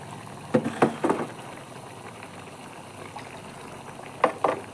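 A pot of egg curry with ground coconut simmers, giving soft bubbling and a few louder plopping bursts of thick liquid, fairly quiet and close.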